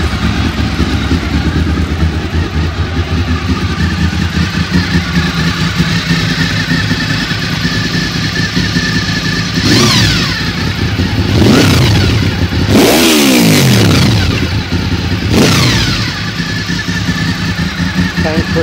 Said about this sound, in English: I'll start it up just now and we can have a listen to it, have a listen to that exhaust